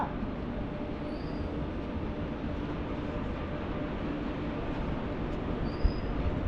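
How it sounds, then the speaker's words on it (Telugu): A steady, low rumbling roar of a freight train rolling past a railway station, continuous and fairly close throughout, with no voices. "గూడ్స్ ట్రైన్ అయితే చూసాను గైస్ మరి"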